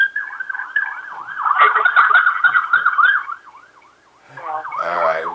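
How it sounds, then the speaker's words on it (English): An ambulance siren wails loudly and close in a steady rising-and-falling cycle, drops away for a moment, then returns with a faster warbling pattern as it passes. "There's an ambulance here."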